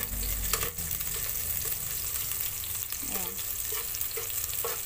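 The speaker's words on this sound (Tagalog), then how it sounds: "Haluin lang natin." Chicken gizzard adobo stirred while frying in a pan, a continuous close sizzle with scattered scraping strokes of the utensil, and a brief spoken word near the start.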